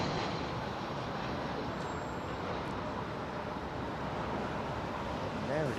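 An Atlas Boeing 747 passes overhead at London Heathrow, a broad steady rumbling jet roar that fills the whole stretch, distant and fairly soft, with no voices.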